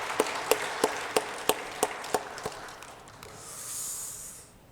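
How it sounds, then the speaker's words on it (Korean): A church congregation claps for its worship team in about nine slow, evenly spaced, sharp claps that sound faint and somewhat distant, followed by a soft hiss. "오늘도 찬양으로 섬겨준 우리 은평찬양단 박수로 격려하겠습니다"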